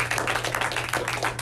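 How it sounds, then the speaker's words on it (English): Applause from an audience gathered to honor a WW2 pilot, dense and steady clapping throughout with a low hum underneath. "can we just say thank you with another applause?"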